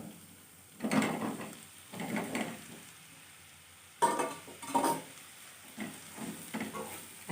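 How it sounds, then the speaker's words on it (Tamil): A spoon stirs baby potatoes coated in masala in a frying pan, producing several scraping, rustling strokes in uneven bursts over a faint sizzle, close and moderately quiet, with no voice. "நல்லா எல்லா பக்கம் மசாலா படுற அளவுக்கு நல்லா கிளறி விட்டுக்கணும்."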